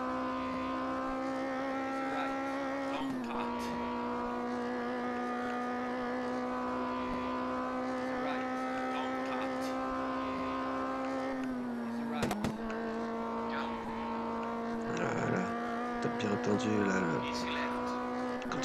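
Rally car engine in the video game MUD World Rally, droning steadily at constant revs with a slight pitch drop near three seconds, then a brief cut and rougher revving toward the end; a voice talks over parts of it.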